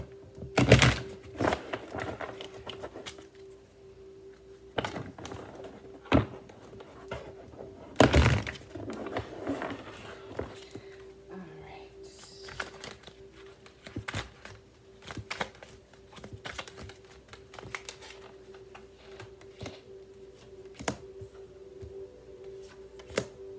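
Loose, irregular shuffling and clacking of tarot cards, with scattered sharp snaps and soft thuds over a quiet background hum.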